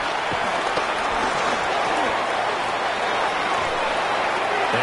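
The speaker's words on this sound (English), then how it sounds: "This crowd turning up the decibel level" Stadium crowd noise from a Madden football video game, a dense, continuous roar of cheering and applause that stays loud and steady throughout, with a faint voice occasionally audible beneath it.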